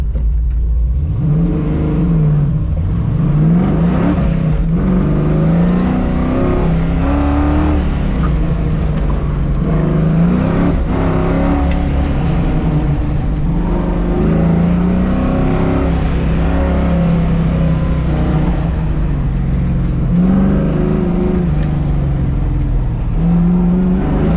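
A car on an SCCA autocross course in Sacramento on warm tires accelerates hard, its engine revving up and down repeatedly as it shifts and pulls through the run, loud and close for the whole stretch.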